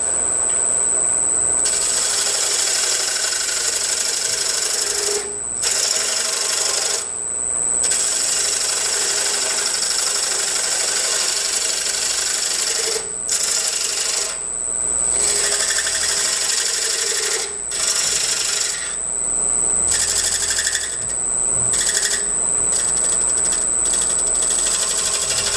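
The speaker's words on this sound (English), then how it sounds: "So turn my lathe on. I'm turning right at 800 RPM," A wood lathe spins a hollow form at 800 RPM with a steady, loud whirring hiss and a high whine, broken by brief dips and rasping scrapes, and no talking.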